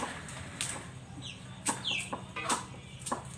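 Chickens cluck nearby in short, scattered bursts, with a few sharper squawks over a low background murmur.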